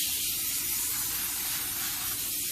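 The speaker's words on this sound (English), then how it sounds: "now we're gonna spray the paper with some olive oil spray so it doesn't stick" Olive oil spray hisses onto folded foil paper in one continuous, loud, close burst lasting the whole moment, with no talking.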